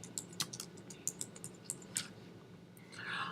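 Quiet, close typing on a computer keyboard, with a quick run of uneven key clicks and taps followed by a soft rustle at the end, no voices.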